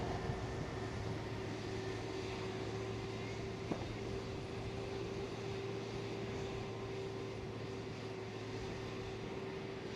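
A Boeing 787-10 airliner being pushed back at Amsterdam Schiphol produces a constant, distant jet engine drone with a low steady hum, faint and unbroken, with one brief click partway through.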